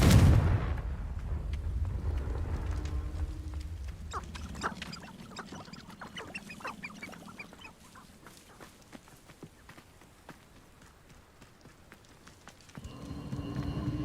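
A Confringo blasting spell in Hogwarts Legacy opens with a loud, sudden burst, then settles into scattered crackling impacts and debris rattles that fade before a low rumble swells again at the end.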